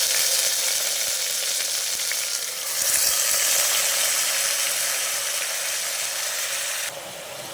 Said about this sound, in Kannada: ಮಟನ್ ಹಾಕ್ತಾ ಇದ್ದೀನಿ.